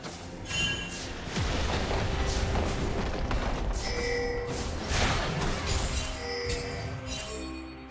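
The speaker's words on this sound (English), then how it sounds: "Red team's turret has been destroyed." Explosive destruction of a turret in League of Legends during a mid-lane Akali versus LeBlanc match: loud booming blasts with crashing debris and clinks over continuous game noise.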